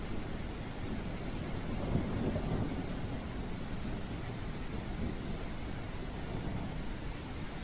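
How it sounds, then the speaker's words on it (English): Steady heavy rain in The Isle Evrima pours down with a dense, hissing roar and a low rumble underneath, continuous and enveloping throughout. "You're not gonna hear anything in this rain."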